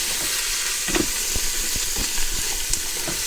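Finely chopped fennel and onion sizzle and fry steadily in a pan while being stirred, with a constant bright hiss and occasional soft scraping knocks from the spoon close by.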